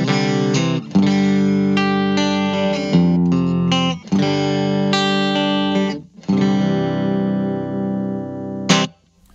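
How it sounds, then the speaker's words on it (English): Bright, clean electric guitar playing chord phrases through a VOX AC10 amp, with short breaks between phrases and a few chords left to sustain. "So tons of nice, clean tone"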